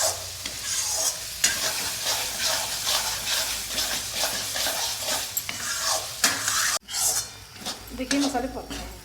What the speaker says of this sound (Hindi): इस तरह धीमे आंच में भूनते हैं।